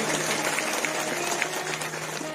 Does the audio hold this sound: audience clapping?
yes